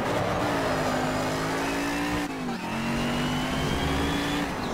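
A race car engine in the video game Shift 2 Unleashed, Retro Cup with 1980s cars, drones loud and close with a steady rising pitch, then briefly dips at a gear shift and climbs again.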